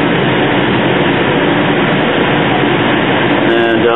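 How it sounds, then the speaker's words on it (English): Riding inside a light rail train down Central Avenue in downtown Phoenix, a loud, steady rumbling roar of wheels and motor fills the cabin without letup. "we're just going in the train going down Central Avenue here in downtown Phoenix"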